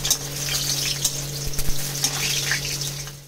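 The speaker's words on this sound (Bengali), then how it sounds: "এবার আমি এই বড়িগুলোকে হালকা করে ভেজে নেব।" Lentil dumplings (bori) fry in hot oil with a lively sizzle and crackle, broken by sharp stirring knocks and a low steady hum. It is close and fairly loud, with no speech.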